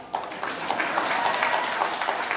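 Audience applause at a national convention talk on the Philadelphia measles epidemic: a steady wash of clapping from a crowd, fairly close and even throughout, with no talking over it.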